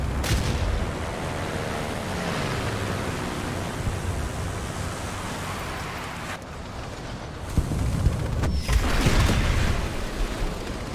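A rocket fired from the U-SH 405 tank destroyer in War Thunder gives a steady broad rushing roar, with a heavier thump and swell of noise near the end.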